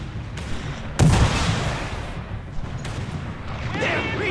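Battle sounds from the video game Company of Heroes 3, with artillery and gunfire aimed at a panzer: a heavy blast lands at once, then rumbling impacts and further shots follow, while voices shout over the fighting.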